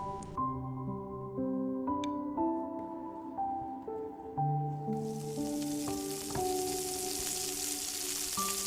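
Honey garlic glazed chicken thighs sizzle under an oven grill, a bright, steady hiss that rises partway through and continues beneath a gentle melodic music track.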